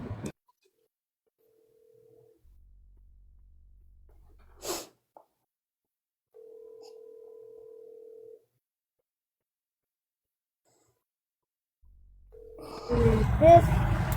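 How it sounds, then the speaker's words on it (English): A telephone rings on the far end of a call, with three separated, even electronic ring tones and long silent gaps between them, followed by a loud burst of breathy noise at the end. "You can hear her phone ringing."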